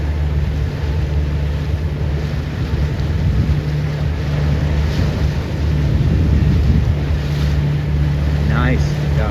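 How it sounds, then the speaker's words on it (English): Wind and rushing waves surround a 29er FJ skiff sailing off San Diego, a loud steady roar of air and water with splashes against the hull and a low engine-like drone underneath. "Oh, look at these waves coming."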